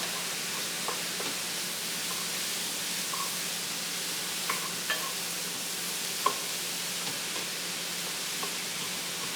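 Cauliflower rice being stirred in a hot pan gives a steady, soft sizzling hiss, with a few light scrapes and clicks from the utensil scattered through it. No one speaks.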